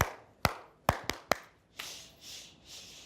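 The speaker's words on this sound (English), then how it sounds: "So class, when I clap my hands, you need to answer back to me by shh" A teacher claps her hands in a classroom, four sharp, loud claps in an uneven rhythm, followed by soft, breathy shushing sounds.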